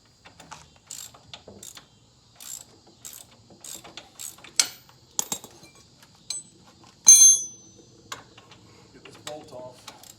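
Hand ratchet loosening a bolt, heard as a series of close, dry clicking bursts with pauses between strokes and a sharper metallic clink partway through.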